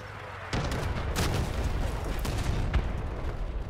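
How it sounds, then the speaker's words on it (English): An artillery blast in the vehicle combat game Crossout, a loud dense rumble of booming impacts and gunfire that starts sharply and continues with repeated thuds, with no speech. "That was a good arty blast, man."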